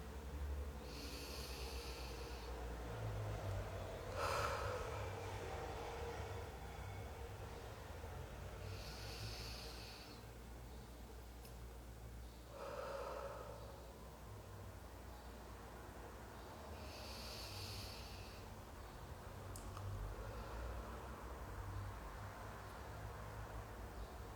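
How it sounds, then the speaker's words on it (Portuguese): A person takes slow, deep breaths, drawing air in through the nose and releasing it through the mouth, during a guided breathing pause; three or four soft, airy breath swells recur every few seconds over a low background rumble, with no talking. "Vamos fazer 3 respirações profundas aí, respirando pelo nariz e soltando pela boca"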